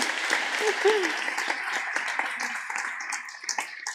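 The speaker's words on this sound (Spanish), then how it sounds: "un aplauso, sí señora, bien hecho" Audience applause on a talk show, moderate and somewhat distant, mixed with laughter and chatter for a few seconds.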